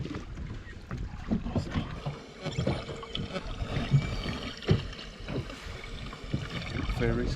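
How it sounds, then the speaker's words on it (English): A boat engine drones steadily at sea amid sleeping pilot whales, a constant low rumble with splashing water and wind buffeting the microphone, no voices. "We can hear a lot of sound coming from the engine of the boat."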